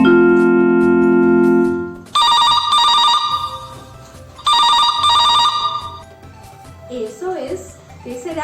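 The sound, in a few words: telephone ringing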